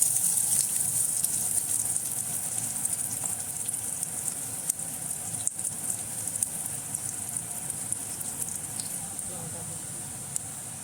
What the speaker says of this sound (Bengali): পেঁয়াজটা যতক্ষণ লাল লাল করে ভাজা না হয় ততক্ষণ অবধি ভাজা হবে।